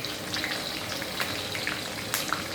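Sun-dried beef frying in hot oil gives a steady close sizzle, with occasional sharper pops and crackles and a few soft clinks over the continuous hiss.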